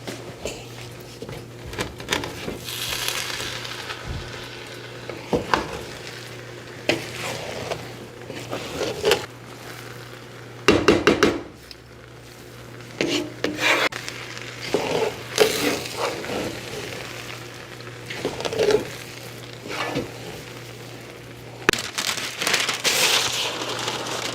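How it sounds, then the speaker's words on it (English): A spoon scrapes and stirs jollof rice in a pot cooking on medium-low heat, giving irregular crinkly scraping and soft rustling bursts over a steady low hum for more than twenty seconds. "It's been 15 minutes, so it is time to stir the rice."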